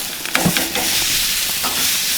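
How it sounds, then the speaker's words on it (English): Steaks searing on a gas grill give a loud, steady, close sizzle after a few brief scraping knocks at the start, with no talk. "just let these steaks sear out until we hit an internal temp of 128 to 130"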